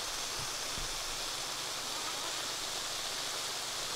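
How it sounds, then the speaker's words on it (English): Water sprays out of a small hole in a hose or line during hay-field watering, a steady broadband hiss that stays constant throughout with a couple of faint low thumps near the start. "You can see the water coming out there on the side right there."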